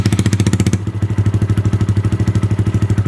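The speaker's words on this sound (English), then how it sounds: "let's go ahead and start her up with the baffle out" A Honda Grom motorcycle idles with its exhaust baffle removed, a loud, close, lumpy chugging beat that wavers briefly early on, then settles into a steady, even pulse.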